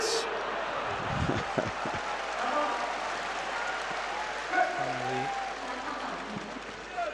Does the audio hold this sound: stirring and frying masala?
no